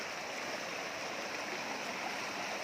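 Steady, dense rush of the tall Bayugao Falls pouring into clear water, a constant broadband roar filling the whole stretch with no talk over it.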